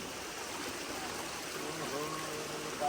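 Mountain spring water flows steadily at its source in East Rukum, a continuous close hiss and trickle that barely changes across the moment, with no clear talk over it.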